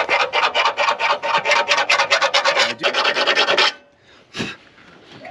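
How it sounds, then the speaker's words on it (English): A metal file rasps back and forth on a truck leveling kit part for an SUV, loud, close, rapid rhythmic strokes for several seconds, then it stops with one last scrape. "maybe we can drill out or file some of those holes."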